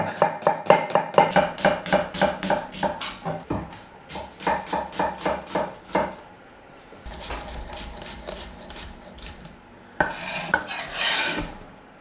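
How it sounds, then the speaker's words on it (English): A knife slices peeled onions thinly on a board, a quick, regular run of crisp chopping strokes that pauses, resumes in a slower rhythm, then gives way to scraping and clattering. "With all the onions peeled, I'm going to get them sliced as thin as I can."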